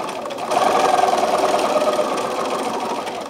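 A sewing machine stitches quilt pieces in one fast, even run of rapid mechanical chatter. It starts after a short pause and stays close and loud, with no voices.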